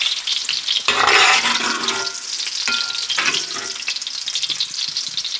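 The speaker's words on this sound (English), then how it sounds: "Alright, so our bacon is a bit rendered down." Bacon frying and rendering its fat in a pan, a loud, close, continuous crackling sizzle that swells briefly near the start as it is stirred.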